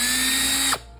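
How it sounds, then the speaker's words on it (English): Small drill whining steadily at high speed while boring out a keychain rivet spacer held in clamped jaws, close and loud, then the pitch drops as it abruptly winds down near the end. "Tightening the jaws, and then that way you can safely drill out"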